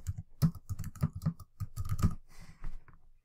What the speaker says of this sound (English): I can type in right away.